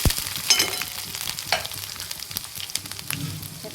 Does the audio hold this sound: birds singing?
no